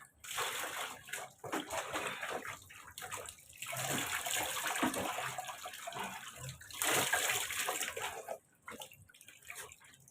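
Water runs and splashes steadily while a Shih Tzu gets a bath, a close, continuous gush with brief pauses and soft drips between bursts.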